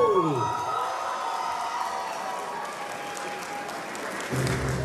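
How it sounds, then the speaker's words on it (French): Convention crowd applauding and cheering for Edelgard at a Fire Emblem fan event, loud sustained clapping with whoops, a voice briefly audible over it early on and a fresh surge near the end. "Edelgard, on l'applaudit, s'il vous plaît"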